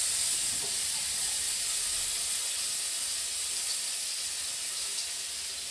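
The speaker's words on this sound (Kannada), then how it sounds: "ಫ್ರೈ ಮಾಡಬೇಕು." Prepared starter pieces frying in hot oil give a steady, moderately loud sizzling hiss that runs unbroken from start to finish, with no voices.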